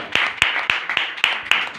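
An audience claps in unison, loud sharp claps in an even, fast rhythm about four times a second at a religious gathering.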